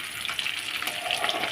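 Pakoras frying in hot oil make a dense, even hiss of bubbling with no talk, heard up close for a brief moment.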